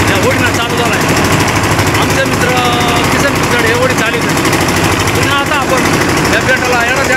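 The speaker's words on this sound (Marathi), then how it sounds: "होडी चालू झाली आपला हा प्रवास आता या होडीनं चालू झाला आहे." A motor boat engine drones steadily and loudly throughout, a dense continuous mechanical rumble with busy rattling texture, on a boat trip to an island.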